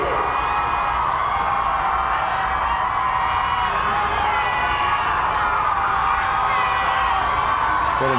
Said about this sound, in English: And the roar of the crowd, the closer the motorcade gets, it's like the wave in a stadium.